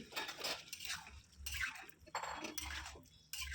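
A spoon stirring mixed winter vegetables in a cooking pot, with a few scraping, clattering bursts spaced a second or so apart, close and quiet, separated by brief lulls.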